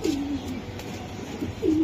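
Club pigeons, including a Notta, coo in low rolling calls, one phrase at the start and another near the end, over a steady background hum.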